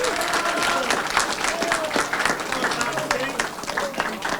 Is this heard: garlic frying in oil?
no